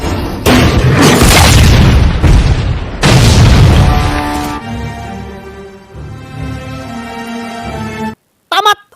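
A bomb blows up in the Lake Placid crocodile film. Two heavy, booming blasts come close together, followed by a long rumbling decay and a short sharp burst at the very end.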